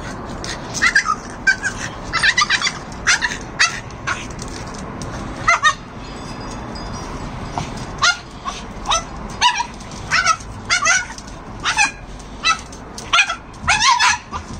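A French Bulldog / Boston Terrier cross barks in repeated sharp bursts while playing with a basketball, close and loud, with short yips between quick volleys of barks.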